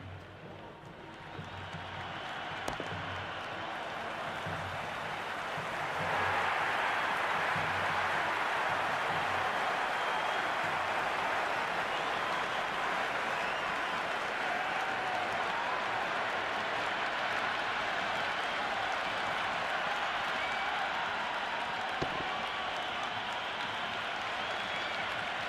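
Stadium crowd at a T20 World Cup cricket final between India and New Zealand, a broad sustained roar and applause that swells noticeably after a few seconds and holds loud and dense throughout.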